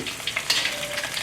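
Crab rangoon bubbling and crackling in hot oil, a steady dense sizzle with bright popping bursts, close and loud with no voices over it.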